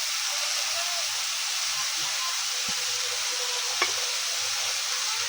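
Okra frying in a pan, a steady close sizzle and hiss throughout with a few faint scrapes and taps of a spatula.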